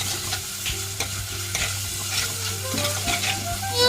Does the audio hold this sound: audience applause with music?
no